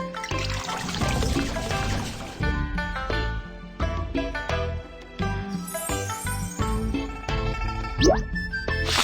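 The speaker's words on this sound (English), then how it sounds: "Pour some water into the bowl." Water pours into a bowl in a BabyBus children's cooking game set at the Dragon Boat Festival. The bright, splashy pouring effect and tinkling sounds play over busy, upbeat background music, with no voices.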